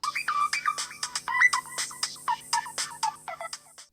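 An electronic phone ringtone plays a rapid, repeating melodic pattern of short tones, fairly close and clear, with no talking.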